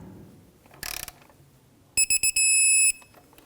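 A torque wrench tightens knock sensor hardware on a 2017-2020 Hyundai Elantra 2.0L engine, a short ratcheting rattle followed by a few quick clicks and a sustained high beep from the wrench signal, no voices.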